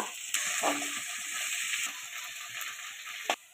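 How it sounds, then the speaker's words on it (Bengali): Finely sliced onion fries in mustard oil with a bright, steady hiss close by, punctuated by a few scraping stirs and a sharp knock near the end, with no speech. "একদম ঝিরিঝিরি কুচো করে নিয়েছি। একটু ভেজে নেব।"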